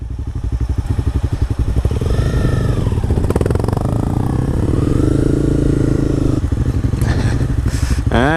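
Motorcycle riding on a street, its engine close and loud, revving up and settling into a steady throbbing drone with rising and falling pitch.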